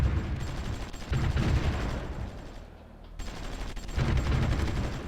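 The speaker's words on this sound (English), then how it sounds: "That's a lot of anti-aircraft gun." Anti-aircraft gunfire rumbles in Supreme Ruler Ultimate, a dense continuous barrage of rapid booming shots that briefly dips in intensity before resuming at full volume.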